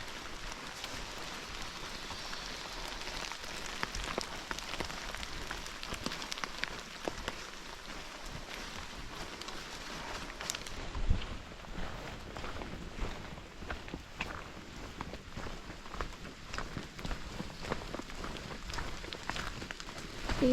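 Warm rain falls steadily on a hiker walking the Appalachian Trail, a continuous close patter of drops on surfaces with scattered louder taps and the faint scuff of footsteps.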